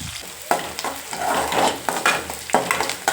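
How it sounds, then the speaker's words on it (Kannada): Onion frying with curry leaves and green chili for rava upma, a close, steady sizzle with repeated scraping strokes of a spatula across the pan and occasional clinks. "ಸ್ವಲ್ಪ ಈರುಳ್ಳಿ ಹಾಕಿ ಚೆನ್ನಾಗಿ ಫ್ರೈ ಮಾಡಿ"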